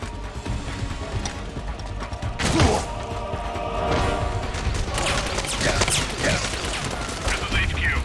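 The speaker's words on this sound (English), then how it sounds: "Who's shooting at me?" Gunfire aimed at the player in Metal Gear Solid 4, a sharp crack of shots around the 2.5-second mark followed by scattered bursts and impacts within a busy game mix, with a voice talking over it.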